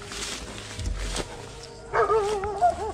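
A dog barking in a video game, a couple of short barks and yelps near the end, fairly close, after a stretch of quieter game ambience.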